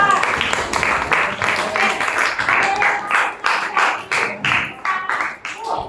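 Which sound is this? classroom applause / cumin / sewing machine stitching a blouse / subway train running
classroom applause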